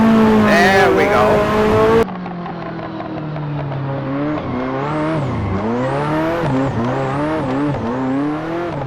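A Ferrari F40's turbocharged engine held at full throttle during rear-wheel-drive drift practice, revving up and down in repeated surges with the pitch climbing and dropping, loud and close, with a brief burst of tire squeal at the start.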